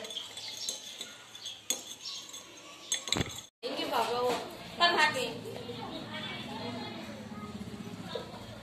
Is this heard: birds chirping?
no